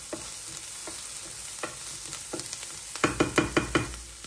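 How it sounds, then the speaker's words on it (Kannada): Onions frying in a pan for palak paneer, with a steady crackling sizzle and a series of scraping stir strokes that grow louder and more rhythmic near the end; no talking. "ಇದು ಚೆನ್ನಾಗಿ ಫ್ರೈ ಮಾಡ್ಕೋಬೇಕು ಈರುಳ್ಳಿನ"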